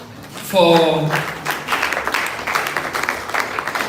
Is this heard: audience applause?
yes